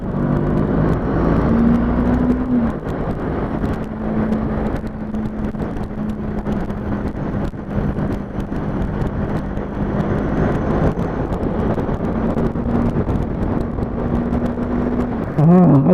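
A 2020 Honda CB500F motorcycle pulling away hard, its engine note rising steadily under heavy wind buffeting on the microphone, with a brief gear change near the end.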